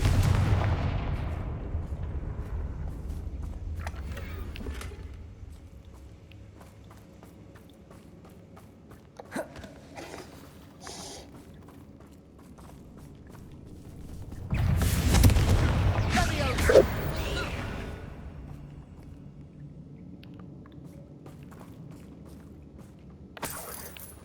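Spell explosions from the Confringo fire curse in the video game Hogwarts Legacy burst out as loud booming blasts, one early and a bigger cluster midway, with quieter rumbling and effects between them.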